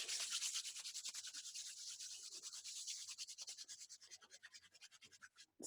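Hands rubbed together quickly in a fast, steady back-and-forth rhythm, a close, dry scratchy swishing that pulses evenly throughout, with no voices.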